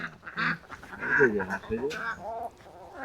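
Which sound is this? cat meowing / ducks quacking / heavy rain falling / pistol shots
ducks quacking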